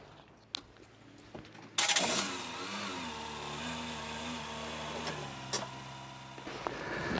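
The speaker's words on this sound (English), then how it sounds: "And now I can just drive the car back." A FIAT 500 car starts and is driven back off a towing A-frame, its mid-pitched engine turning over then running steadily and close, with a few clicks and knocks from the hitch gear.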